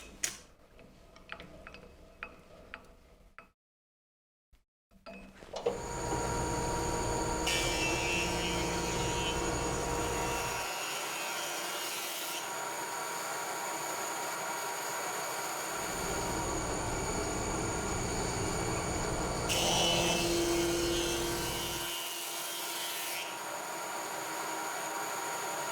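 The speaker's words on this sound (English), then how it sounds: "With just two 1/16 of an inch passes on the planer, I was able to get all of the rough sawn material removed from this board" A few faint clicks and a short silence give way to a thickness planer roaring as it surfaces a rough sawn lumber board in shallow 1/16-inch passes, the loud steady whine deepening during two stretches of cutting.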